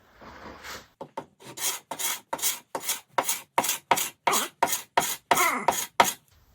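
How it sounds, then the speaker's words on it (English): Hand scraping of a wood surface, heard as a rapid series of about fifteen sharp rasping strokes in an even rhythm. Each stroke is close and crisp, with brief gaps between them and no talking. "So I am going to try scraping"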